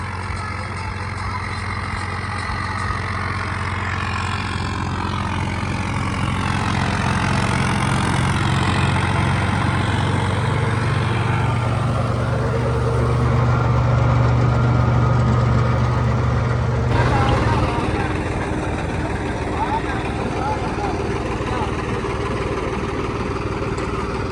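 A tractor engine chugs steadily for a long stretch on a Punjab farm, its low throbbing rising and falling as the revs change, with no one talking.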